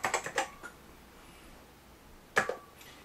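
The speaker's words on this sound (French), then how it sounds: "je peux tout simplement taper des mots sur le clavier" Keys clack on an original 1984 Apple Macintosh keyboard in two short bursts of quick, close typing separated by a quiet pause.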